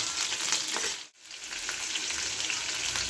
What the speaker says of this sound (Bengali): এরকম একটু লালচে লালচে করে ভেজে নেব